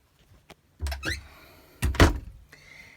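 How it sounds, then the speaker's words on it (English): Two soft thunks of drawers sliding open inside a 2021 Lance 1995 camper trailer, each a short muffled bump with a brief glide, close by in a quiet interior. "it has 2 drawers that open and are soft close"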